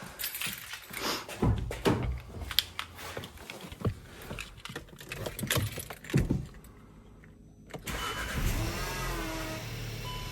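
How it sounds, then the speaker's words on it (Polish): Keys jingle and rattle up close, then the engine of a Skoda Octavia 3 cranks and catches after a battery replacement, settling into a low idle. "Dobra, silnik pali"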